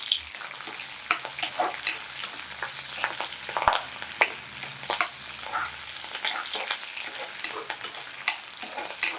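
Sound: garlic and curry leaves frying in oil

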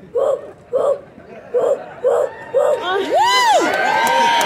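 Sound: person imitating a Bigfoot call at Estes Park Bigfoot Days

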